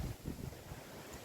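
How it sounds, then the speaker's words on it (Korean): Wind blows across a mountainside, a steady low rumble buffeting the microphone in uneven gusts, loud and close with no voices. "바람 소리 들리시나요?"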